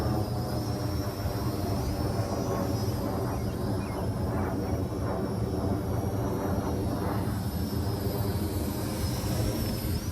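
A Syma X9 FlyCar quadcopter flies past outdoors in wind, a constant high buzzing whir of small propellers over steady rushing wind noise, rising and falling slightly as it passes.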